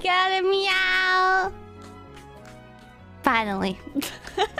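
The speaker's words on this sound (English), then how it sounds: "That was not me, that was my cat." A loud, drawn-out cat meow comes first, then a quieter pause with low hum, then a second rising meow and some short vocal sounds.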